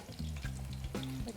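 Food sizzles steadily in very hot oil in a pan, a close, continuous crackling frying sound with low hum underneath, with no talking.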